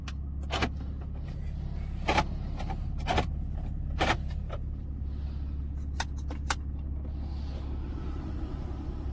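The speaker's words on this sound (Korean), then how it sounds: "이상 SLK 폐차 시동 영상 끝." A scrapped 2005 Mercedes-Benz SLK350 engine idles with a steady, close low rumble. Sharp clicks and ticks recur throughout, and no one speaks.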